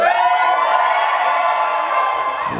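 A theater audience at a Rocky Horror Picture Show screening erupts in loud, sustained screaming and whooping, a dense wall of shrill voices that holds steady and fades slightly at the end.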